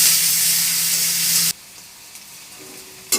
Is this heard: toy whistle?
no